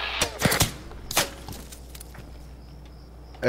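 Several sharp gunshot cracks go off in a quick cluster in the video game Arma 3, then another shot and a final blast after a quiet stretch with faint background noise.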